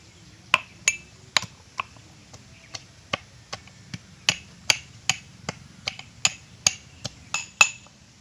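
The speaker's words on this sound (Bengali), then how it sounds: "এবার আমরা আদাটাকেও পেস্ট করে নিচ্ছি।" Ginger is pounded into paste for a village-style chicken curry, with about eighteen sharp, close knocks in an uneven but steady rhythm over low background noise.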